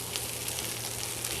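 Onions for low-carb French onion soup sizzle and fry steadily in a pan while being stirred, a close, even crackling hiss with no talk.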